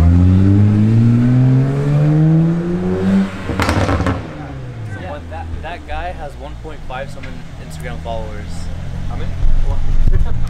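A BMW passing on a street in the La Jolla area, a loud engine swell rising and sweeping by mid-clip, with voices talking throughout and street noise behind.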